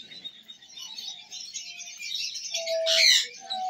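Sun conure parrots kept for sale give high, thin chirping calls that build into a loud, harsh squawk, with a few shorter cries after, close by and without talk.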